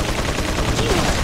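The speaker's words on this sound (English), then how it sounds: "he shot me through the metal" Gunfire in Resident Evil 4 comes as a loud, dense burst of rapid shots crowding a brief moment, close and harsh with no voices over it.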